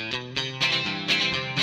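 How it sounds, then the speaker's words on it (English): Distorted electric guitar played through a single-coil middle pickup, with effects, strumming rhythmic chords in about four loud bursts, close and alone. "I thought I had a single coil on my middle pickup."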